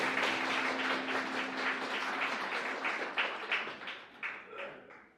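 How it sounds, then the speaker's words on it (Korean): Wedding guests clapping together at a ceremony, a steady dense applause that thins out and fades into scattered claps toward the end. "네, 박수 부탁드리겠습니다."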